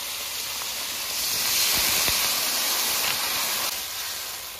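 Water poured into a hot pan of pabda fish curry sets off a loud, steady steam hiss that swells in the middle and lingers across the whole span, with no voices.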